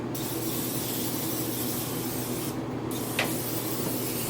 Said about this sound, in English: We're going to take our spray, or if you have extra olive oil, just going to lightly grease it.